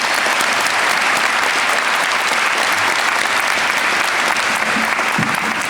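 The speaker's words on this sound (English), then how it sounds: "We'll give them a round of applause there." An auditorium audience at a medical school commencement and hooding ceremony gives sustained, even applause, a thick continuous roar of clapping that stays loud throughout without speech.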